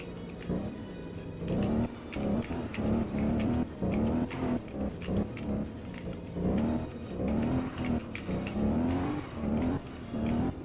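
An Alfa Romeo 8C Spider engine revs repeatedly as the car slides on snow, its note rising and falling in rapid throttle bursts, loud and close.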